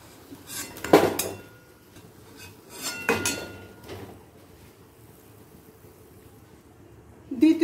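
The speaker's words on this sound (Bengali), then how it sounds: "ভাজা হয়ে গেছে, এবার ছাঁচা হাতার মাধ্যমে আমি তুলে নিচ্ছি" Slotted ladle lifting fried savoury snacks out of a pan of oil, heard as a few sharp metallic clanks and scrapes against the pan, spaced apart with quiet stretches between them.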